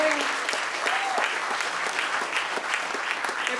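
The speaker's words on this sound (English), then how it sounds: "Please, everybody, give him a round of applause." A crowd applauds at a Lunar New Year community celebration after a winner is announced, steady dense clapping throughout, fairly close and even, with a faint bit of voice in the mix.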